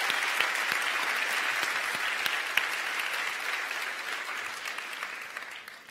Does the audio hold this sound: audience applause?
yes